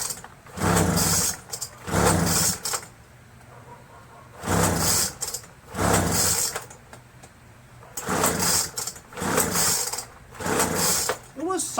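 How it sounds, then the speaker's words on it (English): Repeated recoil-starter pulls on a Tecumseh 6HP engine of a Craftsman Eager-1 self-propelled lawn mower with a freshly cleaned carburetor and new fuel lines, each pull a short loud whirring burst in a steady rhythm, the engine never catching. "it just doesn't want to start"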